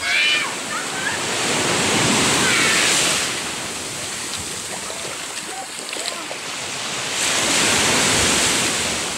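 Ocean waves surging onto the beach of Talikod Island in Samal on a rough day, a loud, broad wash of surf rising and falling in swells with wind buffeting the microphone and a voice faintly beneath.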